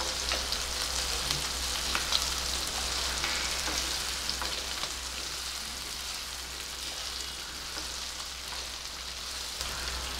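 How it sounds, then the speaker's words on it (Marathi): Okra frying gently in oil on low gas, a continuous even sizzle like light rain, steady and moderately loud throughout with no voices. "भेंडीचा रंग आपल्याला शक्यतो हिरवागारच ठेवायचा, याच्यासाठी बारीक गॅसवरच भेंडी परतून घ्यायची।"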